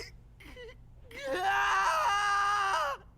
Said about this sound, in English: A scream echoes from a short distance away.